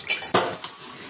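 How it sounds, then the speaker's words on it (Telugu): Cooking pots and utensils clatter and scrape in a brief burst of washing, with two sharp metallic knocks followed by softer scrubbing, close by and with no talk. "ఇప్పుడు వంట చేసినవి అన్నీ మళ్ళా గిన్నెలో పెట్టేసి తోమేస్తున్నా అండి."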